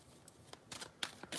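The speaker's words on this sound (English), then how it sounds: "I feel like I need to shuffle more" Tarot cards being shuffled by hand, a quiet series of soft riffling and flicking bursts close by, alone without talk.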